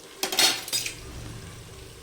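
Fried onion and capsicum land in a pan of spices for paneer tikka biryani, a couple of quick metal scrapes and clatters followed by a soft low sizzle, no talk.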